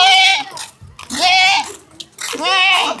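Goats bleating in a Tamil Nadu village, three loud, wavering cries in quick succession close by, with short gaps between them.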